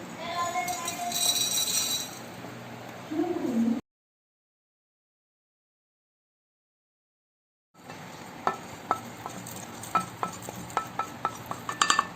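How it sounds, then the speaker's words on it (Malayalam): Whole spices dropped into a hot dry pan and stirred while roasting for Kerala-style mutton roast: scraping and sizzling under a voice, then a silent gap, then a run of sharp clinks and taps from spoon on metal. "പാൻ ചൂടായിട്ടുണ്ട്, നമുക്ക് സ്പൈസസ് ഇട്ട് കൊടുക്കാം"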